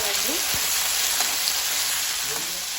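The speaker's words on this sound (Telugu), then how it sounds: "ఆయిల్ వేరెక్కేసిందండి సో మనం తుంపేసుకున్న పచ్చిమిర్చిని కళాయిలో వేస్తున్నాము ఇలా" Torn green chillies hit hot oil in a kadai and crackle into a busy, dense sizzle, with a few sharp pops over the steady frying hiss.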